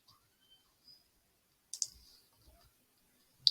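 Two sharp clicks of a computer mouse, one in the middle and one at the very end, faint and close in an otherwise quiet room, with a few tiny soft ticks between.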